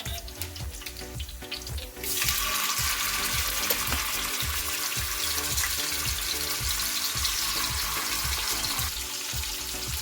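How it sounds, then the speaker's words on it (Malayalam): Fish pieces coated in masala drop into hot oil and erupt into a loud, dense sizzle that holds steady and close, preceded by a few seconds of quieter crackling and stirring. "നമുക്കിനി മീൻ കഷ്ണങ്ങൾ ഓരോന്നോരോന്നായി വറുത്തെടുക്കാം"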